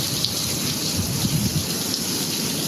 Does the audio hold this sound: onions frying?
no